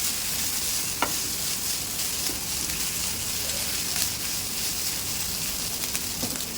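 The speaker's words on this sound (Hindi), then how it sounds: "मैंने 2 पैकेट नूडल्स लिए हूँ, आपके घर में जितना है आप ले सकते हैं। और इसको अच्छे से सौटे करेंगे।" Two packets of noodles sautéing in a pan for chicken chilli noodles, a continuous close sizzle with soft stirring scrapes and occasional light clicks, no talk.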